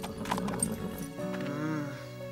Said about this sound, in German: Steig wieder auf dein Pferd.